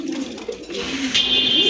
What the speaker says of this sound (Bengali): বর্তমানে কিন্তু টেলমার্ক কবুতর তেমন একটা দেখা যায় না